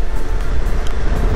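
A 2023 Honda Transalp XL 750 motorcycle engine climbs through the revs, a steady, loud, buzzing drone with wind roar lasting just over a second and no voices.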